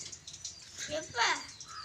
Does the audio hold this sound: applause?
no